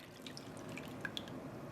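Dye stock is poured through a paper towel set in a funnel, giving a soft continuous trickle with a few faint drips, close and quiet.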